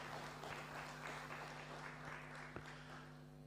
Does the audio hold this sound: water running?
no